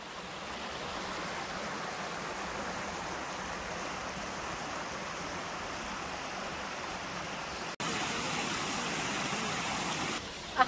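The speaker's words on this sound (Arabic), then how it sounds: "أخيراً وصلنا هذا الشلال، شلال شخوتونيتي." Shkhotonieti waterfall and its flowing water in Machakhela park, Adjara, Georgia, a steady, broad rushing roar that holds constant and close, briefly cutting out and then returning slightly louder near the end, with no talk.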